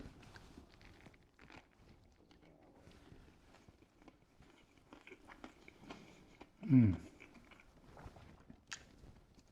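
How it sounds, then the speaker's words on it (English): Someone chewing a Greggs summer-menu sandwich with crunchy cucumber: faint, close mouth sounds of soft chewing with small crunches, and one louder bite near the end. "The extra crunch that the cucumber adds to this is quite satisfying when you're chewing it."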